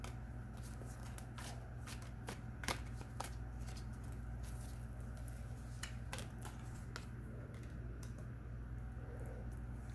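Tarot cards being shuffled during a card reading, a steady run of soft papery riffles and sharp clicks close to the mic over a low constant hum, with no voices.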